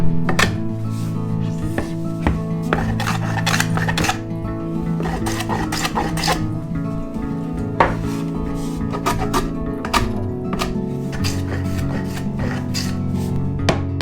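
A carpenter cuts and chamfers wood for a staircase by hand, with repeated rasping strokes and scraping in an uneven rhythm, close and clear, without any talking.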